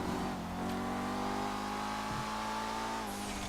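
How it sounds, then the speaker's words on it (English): A modded 2011 Audi RS5 with a big turbo, driven in GTA 5, holds a loud, steady engine drone with layered harmonic tones running continuously throughout. "Now you can definitely hear that big turbo on there."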